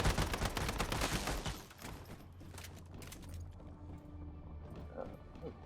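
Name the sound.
gunfire in Once Human video game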